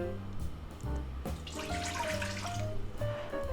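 Water from a measuring cup is poured into an Instant Pot inner pot holding a trivet and bowl, a steady splashing pour lasting a few seconds, close by, with no talking.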